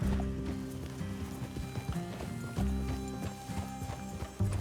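Horses in Red Dead Redemption 2 walk with a steady, rhythmic clip-clop of hooves on the ground, moderately close, along with occasional snorts and the creak of tack.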